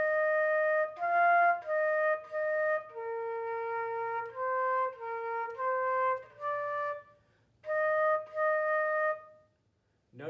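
A flute plays a melodic phrase of clear sustained notes, one held note carried straight into the next without a breath, with short gaps between phrases, close and moderately loud.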